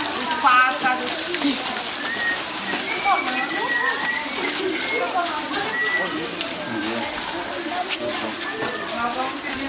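Birds call outdoors in nature, with scattered chirps and cooing notes rising over a noisy background while a voice talks underneath.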